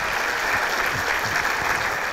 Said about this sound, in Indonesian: Ya tepuk tangan boleh.